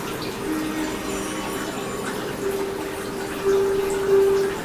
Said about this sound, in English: Will someone please explain how water falls with no rain?